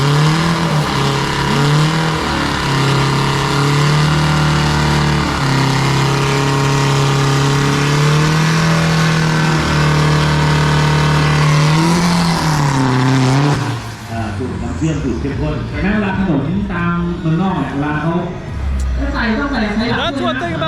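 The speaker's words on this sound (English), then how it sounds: "They're gonna hold the truck up so he can start his burnout." A drag racing truck revs hard for a burnout, its engine holding a loud, steady mid-pitched roar that swells and shifts before dropping into rougher, wavering revving as tires spin; a commentator talks over it.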